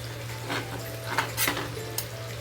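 Pomfret fish pieces flipped in a frying pan, with soft scraping and a few light metallic clinks of the utensil against the pan over a steady low hum, fairly quiet and close.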